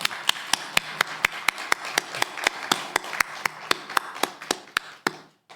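A church congregation claps together in a steady, brisk rhythm of about four sharp, close claps per second, sustained and then trailing off at the end.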